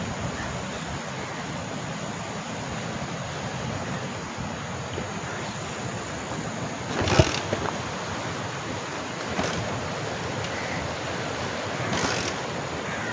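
Steady broadband rush of a flooded river current at the Kalutara river mouth, a continuous roar with a few brief louder surges and some wind buffeting, no voices.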